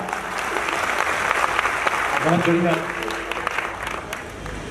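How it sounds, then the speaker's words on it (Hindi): Audience at a Chhattisgarhi comedy poetry gathering bursts into sustained, dense applause that fills the whole stretch, with a voice briefly speaking over the clapping. "बार ताली बजाओ जोरदार"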